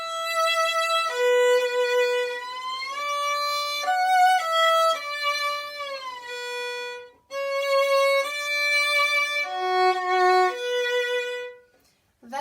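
Solo string instrument playing a slow waltz while shifting into third position, bowed notes sliding audibly between pitches on each guide-note shift, clear and close, in two phrases separated by a short pause.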